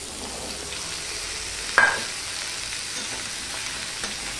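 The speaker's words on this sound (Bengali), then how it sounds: "সবার প্রথমে আমি পেঁপেটা ভেজে নিচ্ছি।" Papaya frying in a pan, a steady soft sizzle running throughout with one brief sharp clatter partway through.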